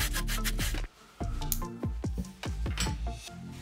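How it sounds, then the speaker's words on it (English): Sandpaper rubbing along the sides of a cork mechanical keyboard case, steady scraping strokes broken by short pauses, close and fairly loud. "Now I can cut sides and use sandpaper."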